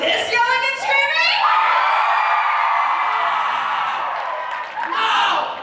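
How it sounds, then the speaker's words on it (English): A theater audience at a high school Sing show in 2023 yells, whoops and screams loudly, a dense crowd roar with shouting voices that stays strong throughout. "are you talking about this yelling and screaming?"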